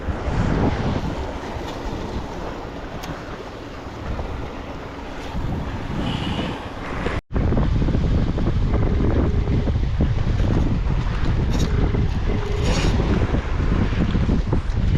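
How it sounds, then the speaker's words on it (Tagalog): Strong wind buffets the microphone at a main breakwater on the sea, a loud, continuous rushing roar with gusty swells and a brief dropout midway. "Medyo lumalakas na yung hangin ngayon dito."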